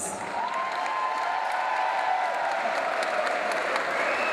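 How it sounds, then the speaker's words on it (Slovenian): Steady crowd applause for young dancers at a high school graduation ball in Slovenske Konjice, sustained and even throughout, with a faint tone running underneath. "Jaz mislim, da si mladi plesalci zaslužijo en velik aplavz."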